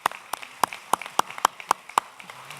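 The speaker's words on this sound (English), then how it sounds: "I was going to ask for an applause for you, but you already got it." At a local development council grants ceremony, a single pair of hands claps about ten sharp, evenly spaced times, faint and fairly close in a quiet room.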